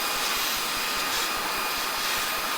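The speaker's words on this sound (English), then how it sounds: "I'm gonna attempt to get that out with a vacuum cleaner here." A vacuum cleaner roars steadily at close range, a constant loud hiss and whine used to suck a dent out of an 80s stereo, with no talking.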